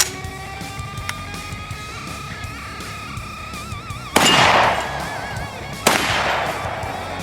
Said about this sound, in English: this is the SKS. These are AP rounds.